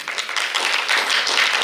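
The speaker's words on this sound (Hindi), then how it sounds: "एक जोरदार ताली कीजिए।" Crowd applause at a staged drama performance about Laxmi Bai, a dense, steady wash of many hands clapping, sustained and fairly loud throughout with no voices standing out.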